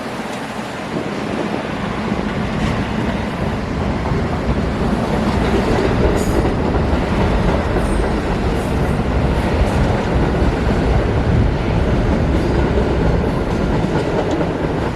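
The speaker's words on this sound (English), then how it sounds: "I've ridden the Staten Island Railway to its weekend terminus currently" Staten Island Railway train rumbling along the tracks from inside the car, a steady loud roar with faint clickety-clack and occasional brief wheel squeals, no talking.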